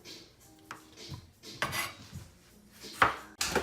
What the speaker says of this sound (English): I'm gonna get a couple of strawberries here sliced for our topping